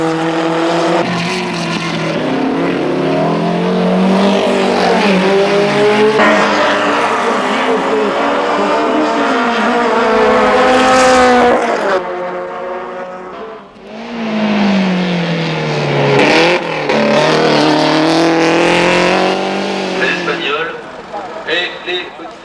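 Historic race cars, Lotus and Alpines, roar past at a 1989 golden-age Grand Prix with loud revving engines and rising, falling pitch through gear changes, and an announcer talks over parts of it.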